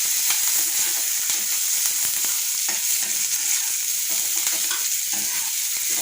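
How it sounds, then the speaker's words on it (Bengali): Onions fry lightly in a pan for mashed potato, giving a constant loud close-up sizzle with fine crackling and spatula scrapes running throughout. "হালকা করে একটু লাল লাল করে ভেজে নেবো, একদম হালকা করে"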